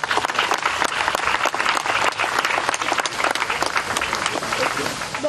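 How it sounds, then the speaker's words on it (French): Sustained applause from an audience at a televised year-end ceremony with gift-giving, dense and steady clapping throughout at a fairly loud level. "Applaudissements s'il vous plaît."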